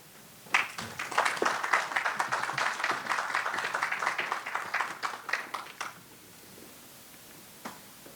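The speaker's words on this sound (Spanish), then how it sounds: "un fuerte aplauso para recibirlo" Audience applause at an engineering talk in Peru, welcoming a speaker to the stage: a burst of many hands clapping that starts abruptly, holds for about five seconds, then thins to a few scattered claps and quiet.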